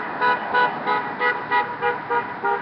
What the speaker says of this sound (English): People honking their horns